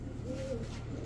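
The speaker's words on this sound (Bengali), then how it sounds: "এখন দেখাবো এক জোড়া সবুজ গলা র পাখি কবুতর।" A large green-necked pigeon pair, male and female with ash-coloured eyes, gives a single faint low coo against a steady background hum.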